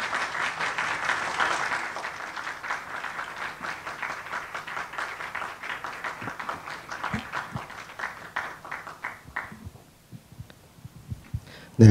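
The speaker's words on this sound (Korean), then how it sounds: "박수로 모시겠습니다." A church audience at a pastors' seminar claps to welcome a speaker: dense, sustained applause that thins into scattered, fading claps, with a sharp sound at the very end.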